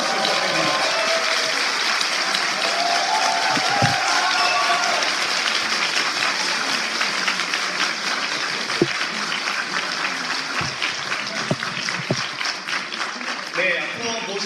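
Sustained audience applause at a political party new-member academy as a guest enters the hall, a dense steady clapping wash with a few sharper claps, while an announcer talks over it.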